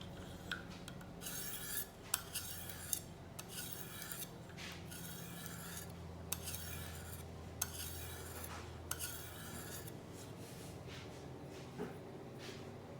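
A knife blade is drawn in repeated raspy strokes across a KME sharpening system stone around 600 grit, steady rubbing passes with small clicks between them, close and alone.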